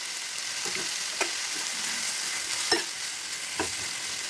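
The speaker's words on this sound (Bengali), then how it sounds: "মশলাটাকে আমি ভালো করে ফ্রাই করে নেব।" Tomato, salt and turmeric masala fries in a pan for mutton kosha, giving a steady broadband sizzle with a few soft stirring scrapes and clicks spaced through it, close and even, with no talk.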